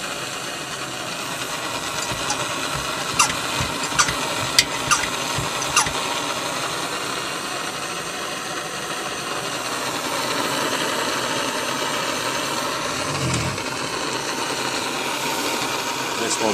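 A pumped, pressurised blow torch burns with a blue flame, giving a steady hissing roar that holds for the whole stretch, with a few faint clicks early on and a low thump near the end.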